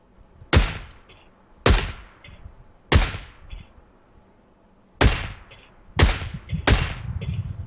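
Six sharp gunshots ring out one at a time at irregular intervals in PUBG Lite, each with a metallic ring and short decay, loud and close.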